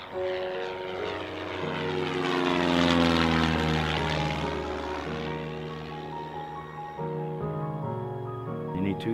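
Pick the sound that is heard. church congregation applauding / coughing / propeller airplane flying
propeller airplane flying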